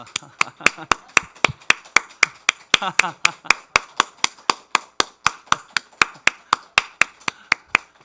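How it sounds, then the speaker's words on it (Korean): At an early-morning church prayer service, people clap their hands in a steady, evenly spaced rhythm, more than twenty crisp claps in a row, with a voice briefly heard partway through. "20번 이상 박수 치며 웃습니다."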